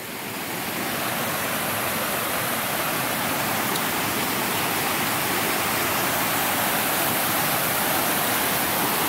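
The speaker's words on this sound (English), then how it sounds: "But right over here is the Roe River." Roe River, the world's shortest river, flows in a steady, broadband rush of water that stays constant and fairly loud throughout, with no voices over it.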